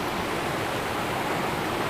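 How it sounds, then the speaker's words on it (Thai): A waterfall at Aiyerweng near Betong gives a dense, unbroken roar of rushing water that fills the whole short stretch evenly and loudly, with no voices. "น้ำตกมานั่งชิวๆดูบรรยากาศ ฟังเสียงน้ำตกได้นะครับ"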